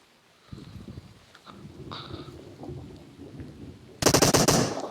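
Automatic gunfire in the PUBG Mobile battle royale game, a loud sustained burst of rapid shots at the end, after quieter in-game footsteps and movement noises.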